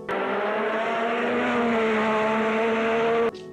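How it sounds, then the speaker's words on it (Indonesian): A 1986 Formula 1 racing car with a V6 turbo engine holds a loud, steady high-revving drone with strong harmonic tones for about three seconds, then cuts off abruptly. "Yang pertama ada mesin tahun 1986 dengan V6 turbo."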